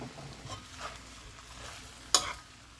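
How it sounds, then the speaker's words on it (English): A utensil stirs coconut curry shrimp in a pot with soft scraping and faint sizzling, then one sharp clank of metal on the pot near the end; no one talks. "And then I stir it in."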